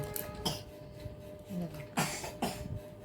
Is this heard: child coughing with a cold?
yes